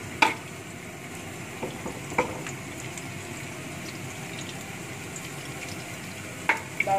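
Shallots frying in hot oil in a pan while a mixed vegetable stir-fry is being started, giving a steady faint sizzle with a few sharp clinks and stirring knocks near the start and end.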